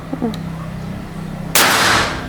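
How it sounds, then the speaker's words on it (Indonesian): A single sharp, loud toy air gun shot cracks out near the end after a moment of quiet background hum, followed by a short decaying tail. "2 kali tembakan lagi ya, teman-teman."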